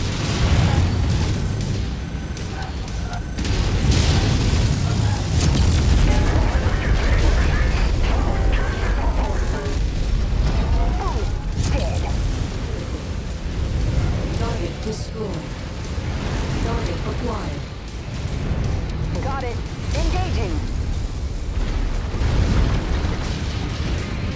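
Explosions and combat noise in the mech video game Mechwarrior 5 Mercenaries form a continuous loud, dense rumble with bursts and crackle, and radio-style voices speak over it at times.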